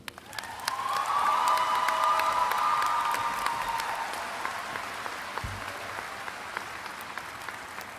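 Audience applause with some cheering greets a law school faculty speaker at a student ceremony, swelling quickly to a steady, dense clapping that holds for several seconds before gradually thinning out.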